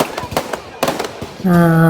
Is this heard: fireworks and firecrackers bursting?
yes